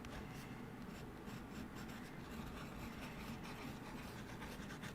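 An extra fine, toothy nib on a Diamond 580 Rose Gold fountain pen scratches across sketchbook paper in faint, rapid strokes that continue throughout, quiet and close, with no voices.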